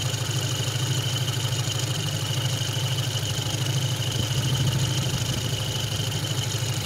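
A ZAZ Slavuta engine idles steadily while its carburetor burns off the remaining fuel, producing a continuous, even low rumble with a fine vibrating texture, near and unchanging, without talk.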